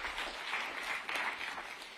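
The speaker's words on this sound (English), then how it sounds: "Another round of applause for Arvind Srinivas," Audience applause at the Bloomberg Tech conference, a steady dense clapping from a crowd that carries on through the whole moment without pause.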